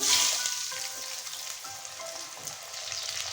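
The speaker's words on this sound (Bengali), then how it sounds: "এবারে তেলের মধ্যেই দিয়ে দেবো ফোড়নে শুকনো লঙ্কা সাদা জিরে লম্বা লম্বা করে কেটে রাখা আলু" Dried chillies, cumin seeds and long-cut potatoes hitting hot oil, a sharp burst of loud sizzle that settles into a steady close crackle, no speech.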